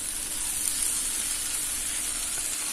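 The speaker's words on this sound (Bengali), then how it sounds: "এবার ভালো করে নাড়াচাড়া করে কিছুক্ষণ ধরে কচুরলতিগুলো ভেজে নেব।" Taro stolons fry in a pan with spices, a soft steady hiss of sizzling oil, fairly quiet and even for a few seconds with no voices.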